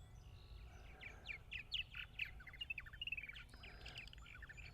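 Purple martins chirp in quick bursts of high tweets over a low rumbling background, moderately close, with no one speaking, on eastern Long Island, New York.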